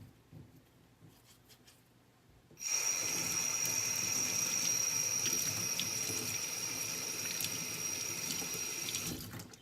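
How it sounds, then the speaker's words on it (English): Hot water runs from a sink tap to rinse dirt bike linkage bolts, a steady loud gush that starts abruptly after a quiet couple of seconds and carries on without a break to the end. "take some hot water, rinse them off"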